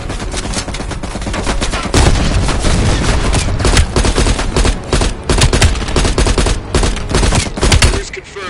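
Continuous heavy machine gun fire in the Call of Duty: Black Ops Cold War campaign, loud, dense rapid bursts layered with other gunshots and battle noise throughout.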